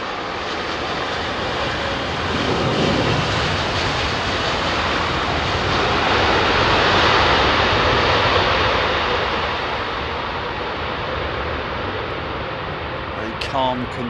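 Aircraft engines at London Heathrow Airport produce a loud, steady broadband roar that swells gradually toward the middle and eases off near the end.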